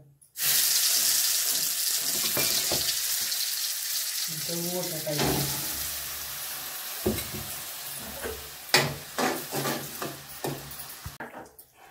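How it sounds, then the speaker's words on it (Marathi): Mustard seeds and dal dropped into hot mustard oil burst into a loud, sustained sizzle that gradually fades, followed by scattered clinks and taps of a spoon against the pan. "तेल चांगलं गरम झालेलं आहे, त्याच्यात आता आपण ही मोहरी डाळ टाकूया।"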